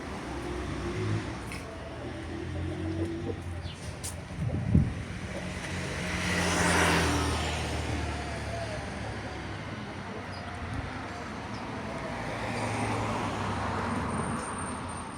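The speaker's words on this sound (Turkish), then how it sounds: "Bura ana yolu üstü olduğu için arabaların hepsi buradan geçiyor." Cars passing along a main road through a residential street, a steady traffic rumble with one vehicle swelling past mid-clip and a sharp knock near the start.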